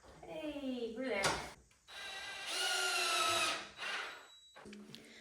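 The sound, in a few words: power drill fastening plywood bed side rails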